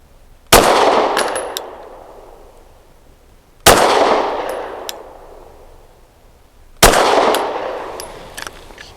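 Three loud, sharp pistol shots from a SAR 9C Gen 3 firing PMC SFX 124 grain ammunition, evenly spaced about three seconds apart, each a hard crack trailing into a short decaying echo.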